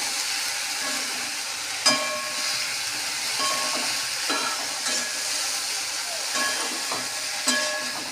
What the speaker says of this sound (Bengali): ফুলটাকে ভালো করে ভেজে নিই।